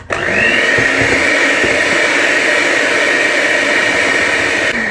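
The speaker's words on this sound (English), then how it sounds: "We're going to use a mixer and we're going to mix this up." An electric mixer creams butter and sugar in a bowl, a loud, steady motor whine and rattle running unbroken from start to finish without any talk.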